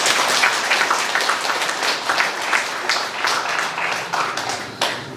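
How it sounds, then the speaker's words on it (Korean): A church congregation at an Anglican Eucharist service applauds together, a dense, close wash of clapping that holds steady for several seconds before thinning slightly. "다 같이 박수 한번 보내드리겠습니다."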